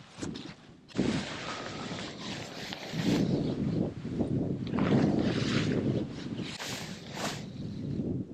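Wind gusts outdoors at a campsite beside an emergency shelter, buffeting the microphone in loud, uneven bursts with rumbling swells and brief flaps, and nobody speaking.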